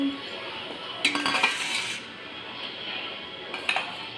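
Plates and dishes clinking while serving moong dal dosa with chutney, a couple of short bright clatters of crockery and utensils against a quiet kitchen hum, near and moderately loud.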